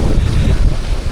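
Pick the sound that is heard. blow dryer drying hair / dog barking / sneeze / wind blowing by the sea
wind blowing by the sea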